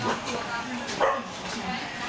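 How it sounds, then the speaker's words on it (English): A dog gives a couple of short yips and whimpers, mid-distance, over a steady outdoor background with people talking in Saigon, Vietnam. "Dog's not happy."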